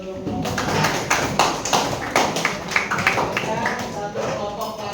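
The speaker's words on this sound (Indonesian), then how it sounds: "Tepuk tangan untuk kelompok" Classroom applause for a student group: a burst of clapping from a small crowd, fairly close, lasting a few seconds with some taps and thumps mixed in.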